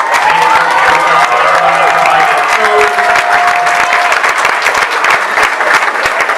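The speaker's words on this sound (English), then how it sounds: "Can we get a big round of applause for all the parents that helped set this up?" Loud, steady applause from an audience at a 5th grade elementary school graduation, clapping for the parents who helped set up the event, with some crowd murmur and brief tonal sounds mixed in.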